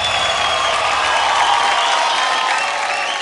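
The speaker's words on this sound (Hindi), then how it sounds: "जोरदार तालियां हो जाए।" Studio audience applause at a comedy show, a dense, steady wash of clapping that holds evenly loud throughout, with faint crowd voices mixed in.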